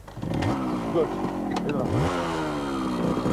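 A motorcycle being kick-started on a drama shoot, its engine catching and running with a steady putter under a few spoken words.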